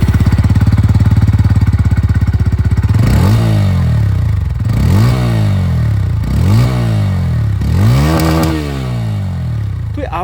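A 2024 Bajaj Pulsar N150 single-cylinder motorcycle with an underbelly exhaust idles with a loud, rapid, steady thump, then is revved four times, each rev rising sharply and falling back. The engine is close by and heard on its own.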